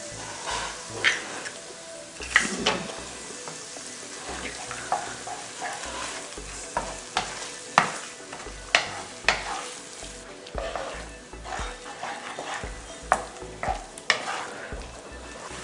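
Egg stir-fried with ridge gourd in a pan, a constant sizzle broken by repeated scraping and clanking strokes of a spatula against the metal at an uneven rhythm.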